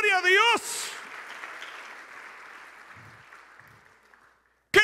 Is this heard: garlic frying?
no